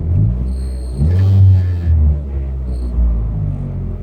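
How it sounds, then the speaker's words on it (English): A straight-piped car engine rumbles loudly and deeply nearby, swelling in a couple of throttle blips over a constant idle, with no talk over it. "this is the first time Riceman's driven this car at the straight pipe"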